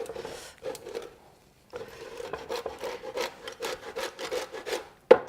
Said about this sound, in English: you want the side of the grater that makes it come out in shreds, not powder